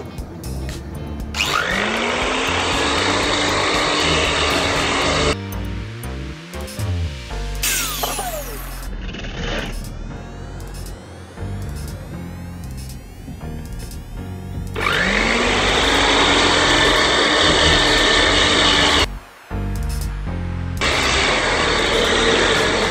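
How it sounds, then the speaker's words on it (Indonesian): An electric power sander works on a wooden fishing-contest trophy, a loud sustained whirring grind that stops and restarts several times, with brief gaps and shifting pitch between passes. "setelah pengamplasan menggunakan mesin"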